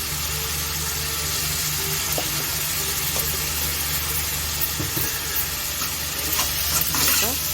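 Maggi noodles with turmeric being stirred in a frying pan: a steady loud sizzle and hiss with scraping stir strokes and occasional utensil clinks close by, and no voices.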